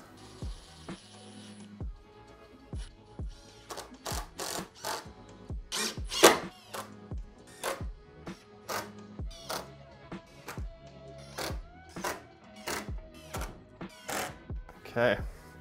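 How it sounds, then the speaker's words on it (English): A power drill drives screws into the wooden bars of a homemade dumbbell weight rack, with many short whirring bursts repeating at a steady rhythm, close and clear, separated by brief pauses. "we'll take our drill and screws, and we get to attach the last"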